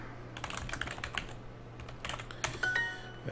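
Typing on a computer keyboard, close bursts of quick key clicks in irregular clusters against a low background hum.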